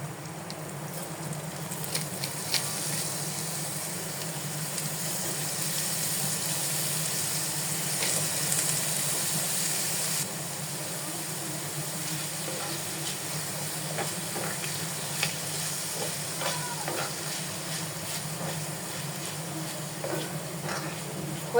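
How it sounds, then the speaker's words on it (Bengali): Burger meat frying with capsicum in a pan, a steady close hiss and sizzle running throughout with occasional small crackles and clinks, no voices. "তো এখন আমি ক্যাপসিকাম দিয়ে 5 মিনিট ভেজে নামিয়ে ফেলবো"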